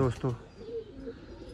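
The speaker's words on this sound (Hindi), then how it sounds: "ये हैं जी लाखे कबूतर" A voice opens briefly, then Lakha pigeons coo softly and low in a fancier's loft, a faint, murmuring throaty sound close by.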